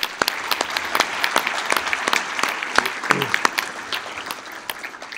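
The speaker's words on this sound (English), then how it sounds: "Let's give them a great round of applause." Audience applause at the 2019 NHRA North Central Division awards ceremony, a steady dense clapping from a large room crowd, with sharp individual claps standing out, continuing evenly for several seconds.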